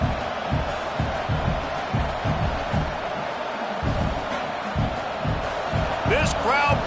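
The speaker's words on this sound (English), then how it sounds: "This crowd bringing the energy and noise early." Steady roar of a large stadium crowd, loud and continuous, with a swell of cheering and whistles near the end.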